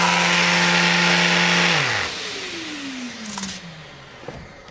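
A Mirka Deros 5.0 random-orbit sander runs with a loud, buzzing whine and rattle from a worn, loose part, then spins down with a falling pitch, leaving faint handling clicks.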